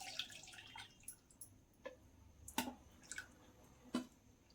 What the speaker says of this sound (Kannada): ಈಗ ಬೌಲ್ ಇಟ್ಕೊಂಡು ಸ್ಟ್ರೈನರ್ ಇಟ್ಕೊಳ್ಳೋಣ. ಈಗ ಇದರಲ್ಲಿ ಸೋಸ್ಕೊಳ್ಳೋಣ.